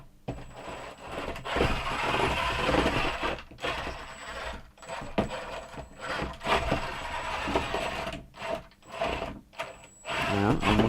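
Upgraded wheels of the Stabby McUnicornface combat robot spin through a close-up test run, a steady mechanical whirring that surges and cuts out in bursts over about eleven seconds.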